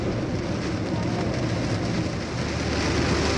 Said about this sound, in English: torrential downpour that's happening